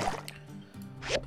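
Brief watery sloshing and dripping as water is refilled in My Time at Sandrock, a couple of short liquid bursts at the start and end, fairly quiet.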